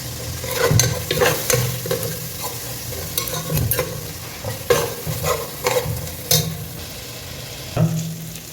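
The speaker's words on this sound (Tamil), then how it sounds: "பீஃப் இப்போ வெந்துட்டுருக்கு" Beef cooks in a pan for biryani while a spoon stirs it, giving a soft sizzle under a series of sharp scraping strokes at irregular intervals, close up with no talking.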